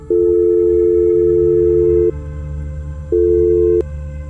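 A telephone ringback tone on an outgoing call: two steady electronic tone bursts, the first about two seconds long, then a pause and a shorter second burst, heard clearly over a low background hum.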